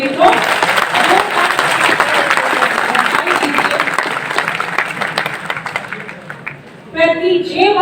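Dense, loud audience applause fills a Hindi poetry evening honoring Atal Bihari Vajpayee at Jiwaji University in Gwalior, sustained for several seconds before dipping, with a voice speaking over it at the end.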